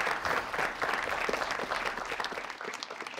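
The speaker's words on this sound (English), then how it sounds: "Please give them a round of applause." An audience at a sustainability panel event applauds steadily, a dense wash of many hands clapping at moderate distance, continuous for the whole stretch and tapering slightly at the end.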